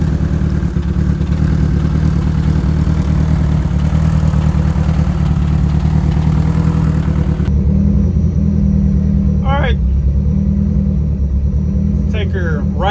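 A Chevy Cruze 1.8 Turbo on a short street test drive after rear suspension work gives a constant, loud low engine and road rumble from inside the cabin, with a few brief higher squeaks near the end.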